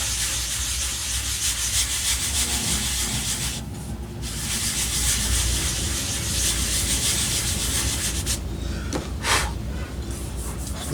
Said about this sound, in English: and then sand lightly on this side,